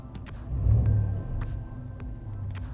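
A car engine rises in revs as the gas pedal is pressed, a low rumbling swell that peaks briefly and then settles back toward a steady idle, heard close with no talking.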